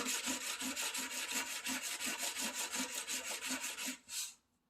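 A steel chisel is pushed back and forth across a sharpening stone in even, rhythmic scraping strokes, about two per second, heard close up and alone before stopping.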